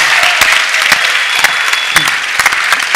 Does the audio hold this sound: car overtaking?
no